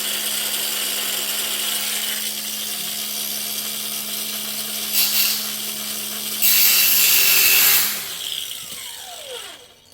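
A grinder works metal for a trailer gate, its steady motor drone running throughout with louder bursts of grinding near the middle and end before it winds down.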